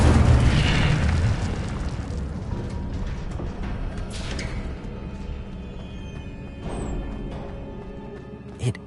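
Incendio fire spell blast in the video game Hogwarts Legacy: a heavy, roaring burst of fiery noise that starts loud and gradually dies away into crackling, hissing rumble with a small late pop.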